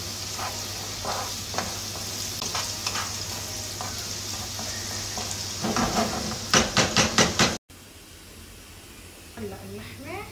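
Onions softening in a frying pan sizzle steadily with a broad hiss, a few sharp utensil scrapes and clinks near the end, before the meat goes in.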